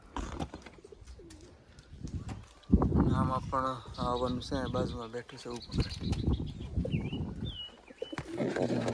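Pigeons coo softly beside a nest with chicks, a low repeated burbling heard close by under steady nearby talk.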